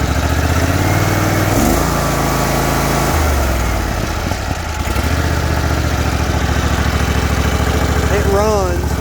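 A homemade mud mower built from a riding lawn mower runs with a steady, loud engine drone throughout, its pitch dipping and then recovering in the middle, while someone talks over it.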